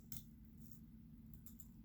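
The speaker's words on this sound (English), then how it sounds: "I'm just going to, cut it right in half." Safety scissors snip through craft paper in a few quick, crisp close cuts against a quiet background.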